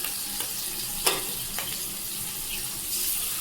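A single beaten egg sizzles in a large wok while making Maggi noodles: a steady, close hiss of frying with a sharp utensil clack and a few fainter taps.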